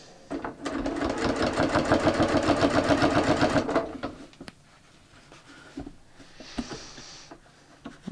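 A sewing machine stitches bias binding around a concave curve, a close rapid run of even stitches for a few seconds, then it stops and faint handling clicks and rustles follow.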